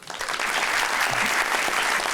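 Studio audience at a Pakistani television comedy talk show breaks into a brief, full burst of applause that swells quickly and holds steady for about two seconds.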